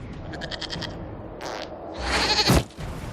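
Goat bleats from a Dragon Age Inquisition game scene where a man attacks a building with a goat, heard as a few short nasal bleats over low background game ambience, with a louder burst near the end.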